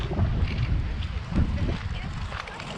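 Gusty wind in the Netherlands buffets the microphone in rough, uneven rumbles at a campsite, with faint voices mixed underneath.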